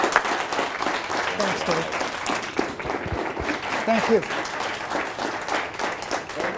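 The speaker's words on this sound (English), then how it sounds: "Well, we give Arnold a big round of applause." An audience applauding a speaker at a talk on surviving the Holocaust, a sustained round of clapping throughout with a couple of brief spoken thanks heard over it.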